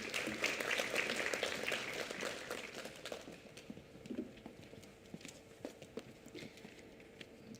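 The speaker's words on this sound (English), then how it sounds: "Please give her a round of applause." Applause from a summit audience greeting a woman called to the stage, loudest at the start and thinning into scattered claps that fade over several seconds.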